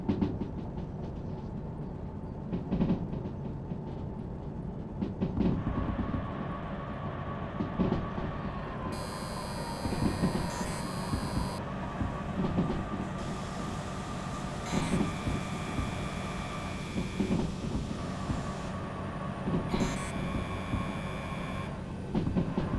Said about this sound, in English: Quite steep, but dynamic brake should be able to handle these locomotives.